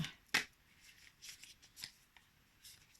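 Close, crisp riffling of a thick oracle card deck comes in a sharp burst followed by softer, scattered flutters and shuffles, recorded quietly with no speech.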